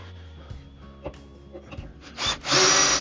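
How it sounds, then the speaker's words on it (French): A power drill bores hinge holes through a jig into a bathroom cabinet panel, building to a loud, steady whirring burst near the end after a few quieter handling knocks. "on prend notre gabarit, la perceuse et on va venir percer les trous"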